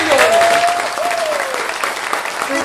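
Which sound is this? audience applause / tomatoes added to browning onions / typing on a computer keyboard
audience applause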